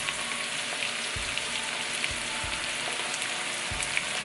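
Seasoned beef, with salt and pepper added, fries in a pan while being stirred, producing a loud constant sizzle with occasional low knocks from the spoon and no voices.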